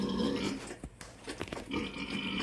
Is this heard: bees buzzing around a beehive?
no